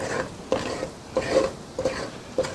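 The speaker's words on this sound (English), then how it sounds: "Stir this in." Chicken stew is stirred in a pot, with a soft scraping swish and light clinks of the utensil against the pot recurring every half second or so under a faint sizzle.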